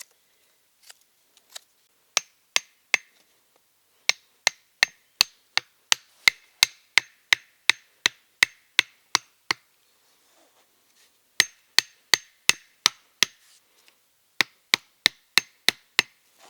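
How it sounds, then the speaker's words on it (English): Chopping to sharpen the end of a wooden stake outdoors in the woods: crisp, sharp blade strikes in rhythmic bursts of several blows, separated by short pauses, close by with no talk. "Sharpen that end and we can drive it in."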